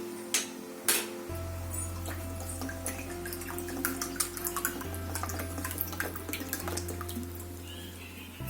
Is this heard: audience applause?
no